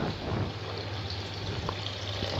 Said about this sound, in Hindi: तो मैं इसमें पानी थोड़ा सा ज़्यादा डालूँगी।